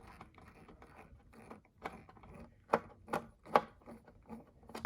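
A screwdriver works screws out of a Motormax die-cast Chrysler GT Cruiser prototype model car, giving quiet, close ratcheting clicks and small scraping turns, with a few sharper ticks.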